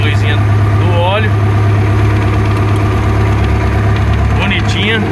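A Perkins diesel engine fitted to an adapted Caterpillar mini loader runs at a steady, loud idle with a deep, continuous low rumble and vibration, while someone talks briefly over it.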